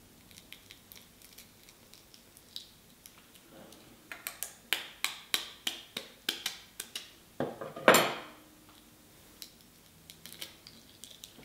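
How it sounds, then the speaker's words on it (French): A knife tapping a quail egg shell in a kitchen while making Easter potato nests: a run of quick, light, sharp taps, then a brighter crack, close and clear with no talk. "je vais casser un œuf de caille. Je vais le faire au couteau."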